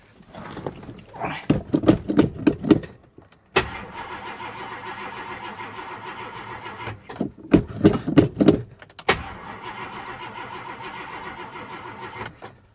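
A 1968 Ford XL Fastback, found abandoned, cranks over in two separate bursts, each followed by the engine catching and idling steadily, loud and close with no talking.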